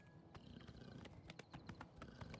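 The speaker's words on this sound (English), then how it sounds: "I don't know why my horse doing a sprint there" Horse hooves clip-clop at a galloping pace in the fantasy video game Oblivion, a steady rapid drumming of hoofbeats with sharp clicks, close and fairly even, with no voices over it.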